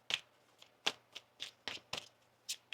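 Tarot cards being shuffled close up, a run of about ten quick riffling snaps in an uneven rhythm, with no talking.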